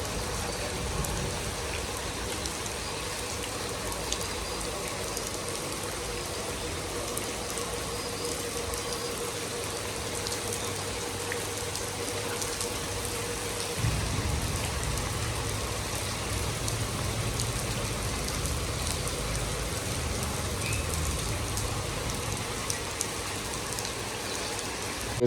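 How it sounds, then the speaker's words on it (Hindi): The first summer rain falls steadily on a village garden with a duck cage, a constant close hiss and patter that thickens with a low rumble partway through. "तो गर्मियों की जो है पहली बारिश हो रही है।"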